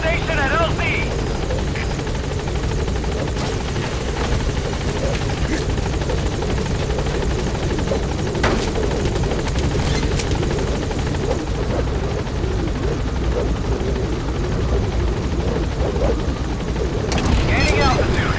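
The B-Quad helicopter from Metal Gear Solid V: The Phantom Pain hovers at a landing zone, its rotor thrumming loud and steady throughout, with a radio voice speaking over the drone.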